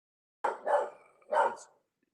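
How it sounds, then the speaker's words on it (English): A dog barks at someone knocking at a house door, giving three loud, close barks in quick succession, the first two nearly run together and the third after a short pause. "I have somebody knocking at my door, and my killer attack dog is attacking"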